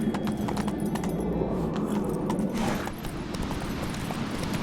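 Hooves clop in a quick galloping rhythm as Geralt's horse Roach runs in The Witcher 3, steady and close, backed by game ambience and no speech.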